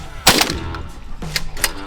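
Shotgun firing during a paradise duck hunt: a loud, close blast followed by quicker, sharper reports about a second later, with a brief honking call between them.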